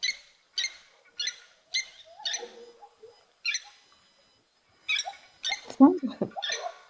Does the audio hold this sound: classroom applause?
no